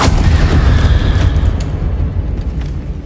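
The Confringo explosive spell goes off in the video game Hogwarts Legacy, a loud, close blast with a heavy rumbling body that slowly fades, followed by a few faint crackling pops.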